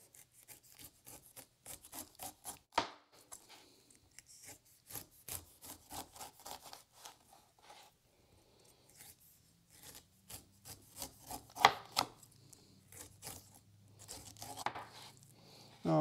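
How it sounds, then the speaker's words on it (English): A knife slices through a fresh pineapple with steady rasping, sawing strokes in a repeated rhythm, close and fairly quiet, with a few sharper scraping cuts toward the end. "This is one of the many ways there are of cutting a pineapple."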